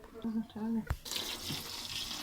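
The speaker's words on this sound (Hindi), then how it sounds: "ये गर्म पानी इसमें डाल दिया मैंने।" Hot water pours into butter in a pot while ghee is made at home, a steady splashing gush that grows brighter and fuller after a short clunk of the vessel.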